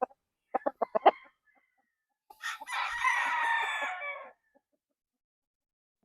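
A nine-month-old Roundhead stag rooster crows once, close and clear, after a few short clucks and taps, with silence around it.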